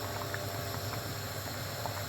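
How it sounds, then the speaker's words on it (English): A pot of tomato soup on maximum heat bubbles gently and steadily over a constant low hum, with soft irregular pops of boiling liquid. "put it on high heat, like maximum heat, and wait for it to bubble"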